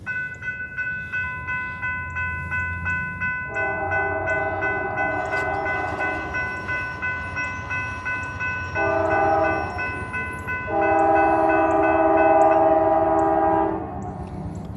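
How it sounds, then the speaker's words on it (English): A southbound Norfolk Southern freight train rolls past a street crossing in a small town, its horn sounding in several long, loud blasts over a steady rumble of rail cars and a ringing crossing bell. "We got a Norfolk Southern train coming right now, a southbound."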